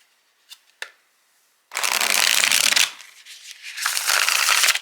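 A tarot card deck is shuffled in two long riffling bursts, crisp and close, after a couple of faint taps, with no talking.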